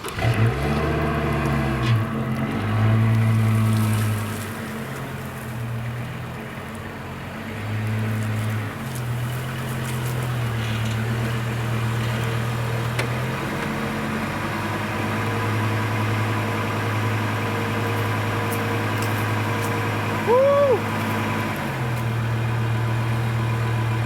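A pickup truck engine idles and labours through a long stretch while the truck heads downhill on rough ground, its low drone rising and falling in steps, with a brief higher whine near the end and no talk.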